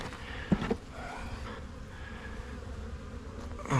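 Honeybees drone steadily at a weak beehive infested with wax moth, a soft, continuous buzz heard up close, with a couple of brief louder passes by individual bees near the start.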